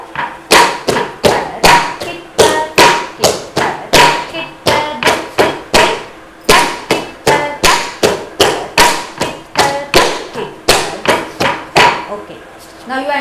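Bharatanatyam footwork stamping out a takita rhythm: loud, close bare-foot thuds on the floor in a steady, even pulse of repeated groups, with no voices.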